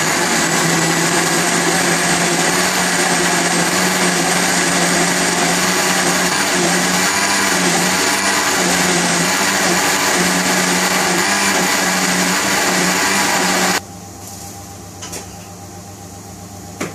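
A kitchen blender whirs steadily and loudly as it purées banana and mango pulp into a tropical fruit smoothie, then cuts off abruptly near the end, leaving quiet room tone.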